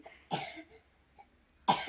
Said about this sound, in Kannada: ಕೆಮ್ಮು ನೆಗಡೆ ಜಾಸ್ತಿ ಆಗಿಬಿಟ್ಟಿದೆ